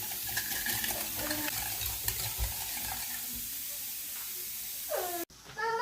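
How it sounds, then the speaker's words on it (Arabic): Eggs being beaten by hand with sugar, oil and vanilla for a cake batter make a steady, close scraping and swishing in a bowl. A few faint clinks come through, and it stops abruptly near the end. "نضرب هذا البيض مع السكر مع الزيت والفاني."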